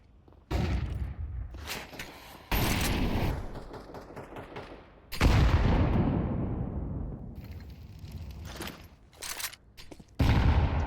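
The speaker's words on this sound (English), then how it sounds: "Nades being thrown around the map" Grenades explode in a Counter-Strike 2 match, several loud booming blasts with long rumbling decays, interspersed with gunfire bursts.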